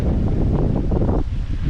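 Strong wind buffets the microphone in a loud, continuous rumbling roar on an outdoor e-bike ride in Glenshellish, Scotland, too gusty for flying a drone, with no voices.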